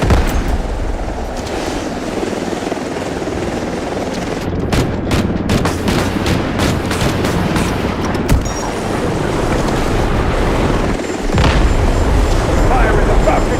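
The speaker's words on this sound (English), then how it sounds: "Guided missiles launched." Guided missile strikes in the Delta Force video game, a sustained loud barrage of booming explosions and rapid crackling blasts layered over dense battle noise, continuous throughout.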